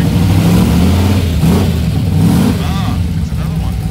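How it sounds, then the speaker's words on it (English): A Shelby's engine revs as the car pulls out of an outdoor car show gathering, a steady mid-pitched rumble rising and easing over background chatter, with people talking nearby. "We got cars firing up already. Sounds like the Shelby's already leaving."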